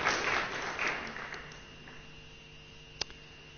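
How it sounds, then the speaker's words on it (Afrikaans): A church congregation in Rockingham claps in welcome, a burst of applause that fades out within a couple of seconds into a quiet hall, followed by a single sharp knock. "kom gee vir hulle lekker hande klap."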